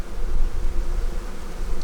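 Honey bees buzzing densely in an opened hive, a close, loud and continuous drone with no voices.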